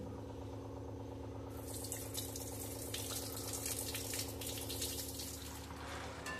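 Water pours and splashes while sabudana (sago pearls) is rinsed in a home kitchen, a continuous close gush over a steady low mechanical hum, with no talk.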